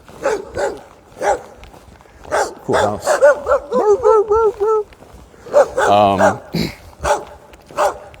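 An old, heavyset dog barks and yelps close by in a few short bursts with whiny, pitched cries, while a person talks over it.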